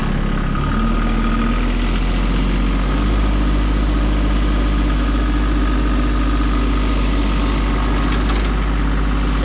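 A tractor engine throttled up toward about 2,000 RPM to drive a multivator off the PTO, giving a loud, steady low drone with constant vibration throughout and no talk.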